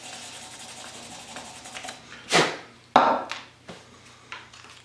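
Fine 800-grit sandpaper rubbed by hand over a small workpiece gives a few rough, scratchy strokes, the loudest two close together midway, with faint rubbing between and no talking.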